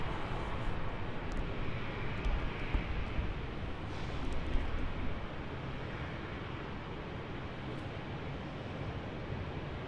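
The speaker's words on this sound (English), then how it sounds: "Our next arrival is going to be the Virgin Australia 737-800, coming in from Sydney as VA 957." Virgin Australia Boeing 737-800 arriving at Brisbane Airport, heard as a steady, loud broadband engine roar that swells slightly midway and holds throughout, with no talk.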